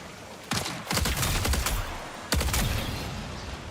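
Gunfire from another player in the video game Marathon: two bursts of rapid shots, the first longer and the second shorter, fairly loud with a fading tail, no talking.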